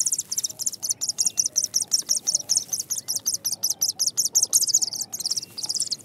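Many small birds chirp rapidly in a steady stream of high, thin calls, like hungry chicks begging in a nest while the male brings insects to feed them, close and continuous.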